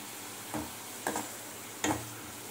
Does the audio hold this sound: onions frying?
yes